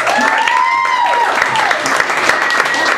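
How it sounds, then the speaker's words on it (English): Comedy club audience at Greenwich Village applauding a stand-up comedian, sustained loud clapping with scattered whoops and cheers from the crowd. "Make some noise for Maya Klausner."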